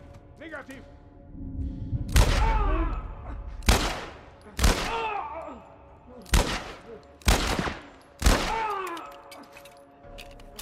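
Loud gunshots from The Last of Us remake on PC, five sharp blasts spaced a second or two apart with brief echoing tails, while a player talks between them.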